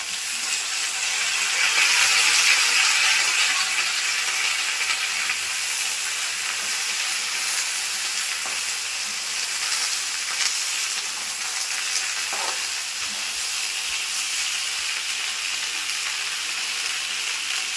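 A mixed vegetable curry with drumsticks fries in a pan, giving a loud, steady, hissing sizzle throughout as tomato goes in, with no voices.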